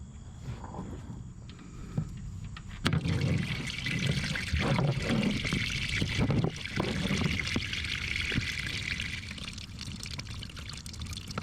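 Hydraulic fluid draining from the open drain plug of a John Deere 1025R compact tractor, a continuous gurgling, splashing pour that starts softer and then runs steadily and close for several seconds, with no talk.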